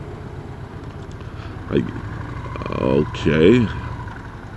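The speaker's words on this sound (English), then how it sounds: "My bike has a good sound to it." A motorcycle engine idles with a low, steady rumble under the wind while stopped at a stop sign, and someone speaks briefly over it.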